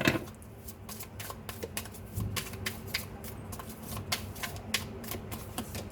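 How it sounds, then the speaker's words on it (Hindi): Tarot cards being drawn and shuffled by hand, a quick run of soft riffling flicks and taps, close-up and fairly quiet with no talking. "यहाँ से मैं जल्दी से यहाँ से कार्ड निकाल लेती हूँ आपके लिए"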